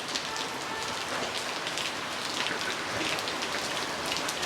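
Steady, dense rain falls and patters on surfaces nearby, a constant hiss with no pauses and no voices throughout.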